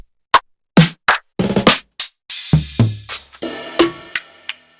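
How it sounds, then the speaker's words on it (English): Drum samples fire one after another from a Roland SP-404 sampler: crisp separated hits of kicks, snares and cymbals with short decays and brief silences between, dry and close. "I went ahead and loaded up a full bank here with some different drum samples"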